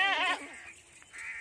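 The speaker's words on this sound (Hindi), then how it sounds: "और ये तीसरा ये बकरा जा रहा है" A goat, one of several offered for sale, gives a loud, wavering bleat close by, followed by quieter farmyard background noise.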